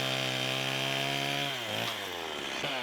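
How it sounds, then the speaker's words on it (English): A chainsaw runs hard through a wooden log post for a log house, a loud steady buzzing drone that dips in pitch as the chain bogs into the wood. "Run around with the chainsaw to cut that thing out."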